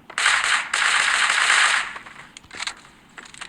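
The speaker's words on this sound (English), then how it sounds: "I just did that to waste the bullets" Automatic gunfire in the shooter video game Creative Destruction, two loud sustained bursts of rapid shots close up, followed by a few scattered single shots as it trails off, with no talk.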